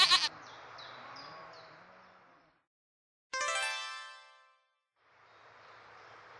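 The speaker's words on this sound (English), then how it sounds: "I have got 20 goats and 45 sheep." Three drawn-out bleats from sheep and goats, nearby and fairly loud, separated by short silences.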